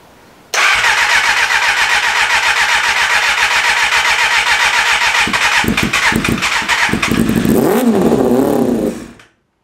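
Kawasaki ZXR250 motorcycle engine starts abruptly and runs loud and close, a busy buzzing idle that turns into a string of sharp revs near the end before cutting off.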